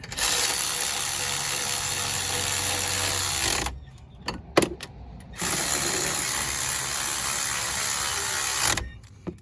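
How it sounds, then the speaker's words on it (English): Ratchet tightening a suspension bracket on a Dodge Charger R/T 5.7 at the rear passenger-side knuckle, with long runs of rapid close clicking, a pause with a few clanks and knocks, then another steady stretch of ratcheting. "I'm gonna go ahead and tighten the bracket"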